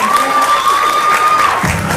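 Audience applause and cheering at a cultural ambassadors election ceremony in Villa Angela, a loud, dense crowd roar with a sustained whistle-like tone running through most of the burst before it thins out near the end.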